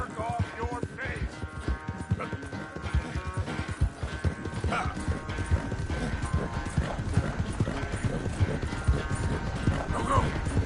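Horse hooves clip-clop along at a steady walking rhythm in the video game Red Dead Redemption 2, close and continuous under a low musical bed, with voices talking over the hoofbeats.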